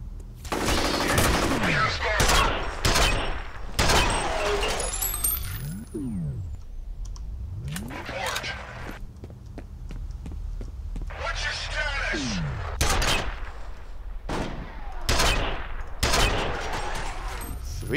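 Rapid bursts of gunfire in the first-person shooter F.E.A.R., loud and dense, with sharp repeated shots clustered through most of the stretch and a voice talking over parts of it.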